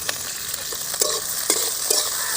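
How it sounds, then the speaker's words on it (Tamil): Onions sautéing in a pan for potato podimas, a bright close sizzle with a few spatula stirs, short and unaccompanied by voices. "நல்ல வெங்காயம் செவக்க வணங்கட்டு."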